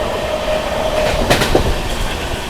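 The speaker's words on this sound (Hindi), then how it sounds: "यहाँ पर अपनी ट्रेन जो है फतेहपुर स्किप करने जा रही है।" Sampoorna Kranti Express running through Fatehpur station at night without stopping, a steady rumble of wheels on rail with a brief rush of sharper noise as it passes, loud and close.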